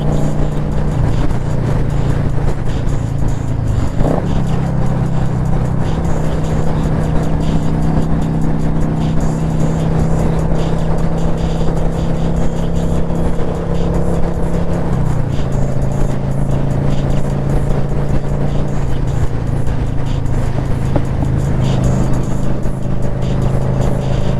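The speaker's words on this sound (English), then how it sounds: "The RPMs sound really high, but I mean, Yamaha says that's normal for these 650s." A Yamaha 650 motorcycle cruises at high RPM with a steady, buzzing engine drone close up, broken by a couple of brief shifts in pitch, and no voices.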